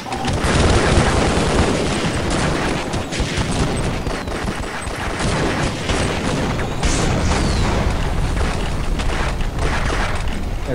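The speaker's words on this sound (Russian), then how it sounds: "Так, взрыв произошел?" Video game explosions and gunfire crackle in a dense, continuous barrage of booms and rapid shots, loud throughout with no pause.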